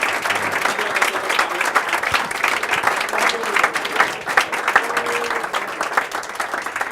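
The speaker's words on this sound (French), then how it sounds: "Je vous demande d'applaudir chaleureusement Ara Zorabian, le nouveau bâtonnier élu d'Arménie." Warm applause for Armenia's newly elected bâtonnier Ara Zorabian, a sustained, close, dense clapping crowd that rolls on evenly for several seconds, with a faint voice or two rising briefly within it.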